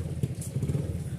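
A motorcycle engine runs close by with a steady, low, throbbing rumble and a few small knocks, heard alone without talk for about a second.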